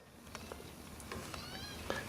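A house cat gives soft, faint meows in a quiet room, a few short calls spread across two seconds with small rustles between.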